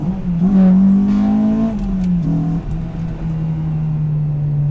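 A Honda K20A engine in a Civic EP3 Type R revs hard into VTEC, climbing sharply in pitch, then drops back and settles into a steady idle-like drone.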